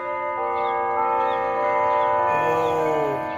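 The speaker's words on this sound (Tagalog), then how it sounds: "Oh, ay, may bell. May nag-bell." Church bell at the Apung Mamacalulu Shrine in Angeles City, ringing with sustained overlapping metallic tones that hum and shimmer throughout, fairly close and clear, with no talking.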